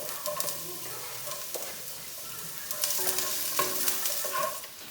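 Chopped onions hit a pan of hot oil with oily ground beef, giving a steady close sizzle broken by scrapes and knocks of stirring during an eggplant stir fry.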